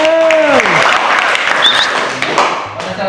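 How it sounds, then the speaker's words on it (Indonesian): Audience applause for a group that has just finished presenting in a classroom training session, dense clapping heard throughout, joined at the start by a brief voice or whistle-like tone. "Dari kelompok yang sudah presentasi, kita beri tepuk tangan dulu."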